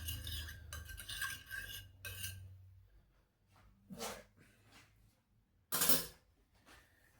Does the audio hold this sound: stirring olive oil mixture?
yes